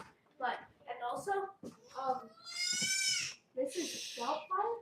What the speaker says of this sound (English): That's our baby goat.